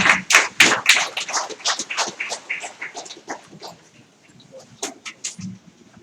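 Audience clapping after a talk at a 2016 public conversation event: scattered, uneven hand claps from a modest crowd, loud at first then thinning out, fading and returning with a few final claps.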